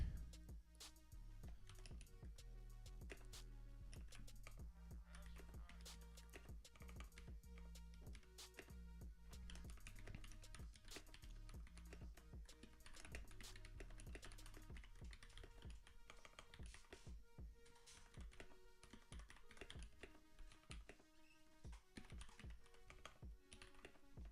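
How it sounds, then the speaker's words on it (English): Steady typing on a computer keyboard, dense clattering key taps running continuously throughout, close and fairly loud over a low background hum, with no talking. "I'm over here typing, this shit isn't even going."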